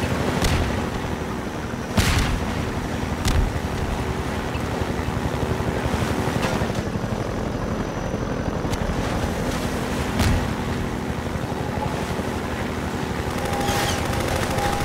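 Enemy shooters firing in Half-Life 2, a dense rattle of gunfire under a constant roaring backdrop, punctuated by a few sharper, louder shots.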